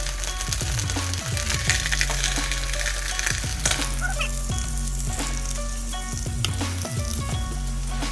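Beef bulgogi sizzles loudly in a big pot, stirred with repeated scraping strokes and clinks of the utensil against the metal over a continuous close crackle.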